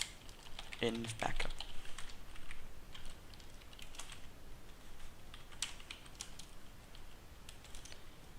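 Keys clatter on a computer keyboard while coding a Minecraft Bukkit plugin, quick irregular bursts of clicks with a busier flurry early on, fairly close and moderately quiet.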